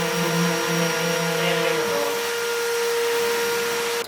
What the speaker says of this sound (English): I think we're just going to hit it with the sander and smooth it out a little bit